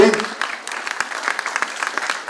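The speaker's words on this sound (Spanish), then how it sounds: "Y por eso nos elogiamos con fuertes aplausos." An audience at an education conference plenary claps briefly, a burst of scattered applause that thins out, with speech mixed in.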